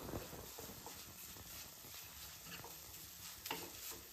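A spoon stirs melting jaggery filling in a pan on the stove for steamed modak, giving a soft, steady scraping and light sizzle close by, faint overall with a few sharper clicks near the end.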